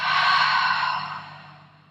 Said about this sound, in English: And then exhale out through the mouth.